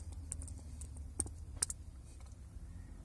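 Quiet clicking of keys on a computer keyboard while entering text into a Touring Computer model lookup for a 626, scattered light taps spread over a few seconds in a still room.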